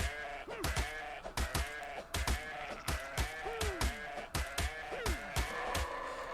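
Repeated Ovis sheep bleats from ARK Survival Evolved, a series of nasal, wavering calls mixed with sharp impact thuds, likely pickaxe strikes, in a steady loud rhythm with no talking.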